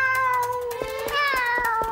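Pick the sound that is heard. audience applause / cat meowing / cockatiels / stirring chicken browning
cat meowing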